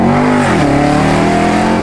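A supercharged 2013 Chevrolet Camaro ZL1 with a cold air intake revs hard up close, its loud engine note rising and falling in steady harmonic sweeps with no talk over it.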